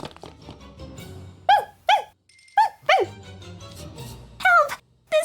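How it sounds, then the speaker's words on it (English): Dog from the game Twisted Wonderland barking in short sharp bursts, about six spaced barks with snuffling and small knocks between them, loud and close, no speech. "The seafood dog keeps sniffing at me."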